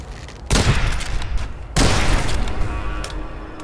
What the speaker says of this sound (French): je vais le faire au fusil